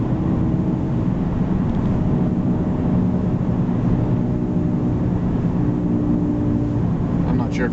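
A Honda Civic with a failing wheel bearing drives at around 80 km/h, giving a steady low droning hum and road roar that stays constant throughout, heard from inside the car.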